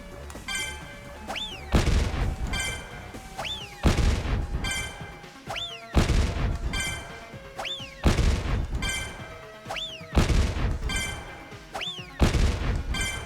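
Bombs explode repeatedly in Terrain of Magical Expertise, a video game, each broadband boom landing roughly every two seconds along with a rising chime-like sweep and steady tones in between, loud and regular with no talk.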